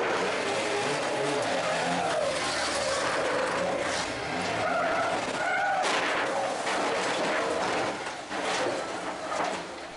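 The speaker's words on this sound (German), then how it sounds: "Insgesamt 5 Trucks krachen ineinander. Massencrash nach Kurve 3." Racing trucks crash and skid after turn three at the Jarama circuit during a 2018 European Truck Racing Championship race, a dense continuous roar of engines and scraping tire noise filling the whole stretch, loud and sustained.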